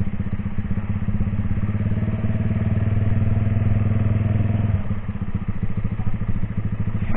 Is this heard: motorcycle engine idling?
yes